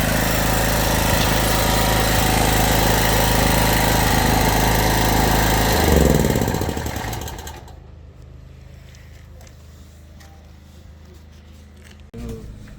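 A Munich Tools MT 6500 2.8 kW petrol generator runs with a loud, steady engine drone, then shuts down partway and falls to a low quiet background with a brief thump near the end.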